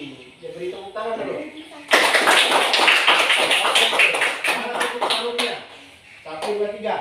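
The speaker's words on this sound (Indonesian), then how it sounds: "Ya, beri tepuk tangan dulu." Students in a classroom applaud after a group's performance, with a few seconds of brisk clapping rising abruptly between stretches of a teacher talking.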